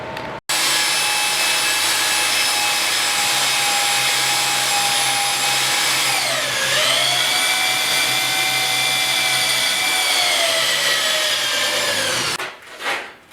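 A power drill whines steadily at close range for about twelve seconds, drilling out a panel on a 1956 Mercury truck, its pitch dropping as the bit bites in, then cutting off.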